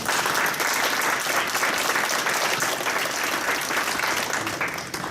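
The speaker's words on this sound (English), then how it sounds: "let's give a round of applause for Sean Arce" A summit audience gives a dense, even round of applause for a speaker, sustained for several seconds before tapering slightly at the end.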